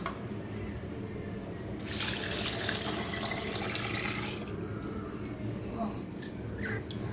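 Water pours steadily into a pot of little millet khichdi for a few seconds over quiet background noise, then trickles and drips with a small clink near the end.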